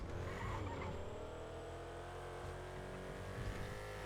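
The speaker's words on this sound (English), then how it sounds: "Car actually drives nice too." A car in a video game drives with a steady, droning engine and a continuous tire squeal and skid running throughout, close and unbroken, with no talk over it.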